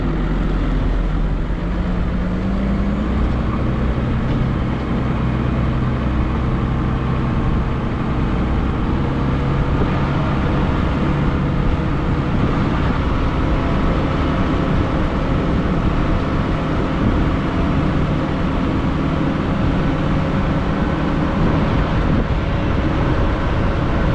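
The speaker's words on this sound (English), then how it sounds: "Right, back in the tractor" A farm tractor pulling triple Dalbo rollers across a cold field gives a continuous loud, low diesel drone with a steady rumble, heard from close by without pause.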